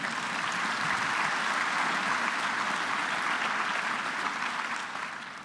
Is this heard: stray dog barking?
no